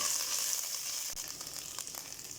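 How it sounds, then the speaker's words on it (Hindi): Ginger garlic paste frying in a pan, a faint steady hiss and sizzle with light crackles throughout, no talking. "इसके बाद इसके अंदर डाल देंगे अदरक लहसुन पेस्ट, इसको भी चंद सेकंड भूनेंगे।"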